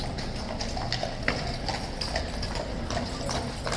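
Hooves of a Horse Guards mount clip-clop on pavement in an uneven, lively rhythm as the captain's excited horse moves about, crisp and fairly near against an outdoor street hum.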